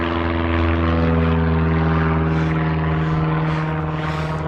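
An airplane passing overhead, a loud sustained propeller-engine drone with steady low harmonic tones that swells slightly and shifts in pitch as it moves, close and without any talk.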